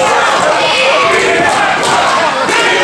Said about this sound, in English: And here comes the crowd, letting their intentions be known